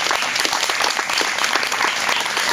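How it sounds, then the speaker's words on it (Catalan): Audience applause for a performer at a folk music concert in a monastery, steady close clapping from many hands, with no voices over it. "Un fort aplaudiment per ella"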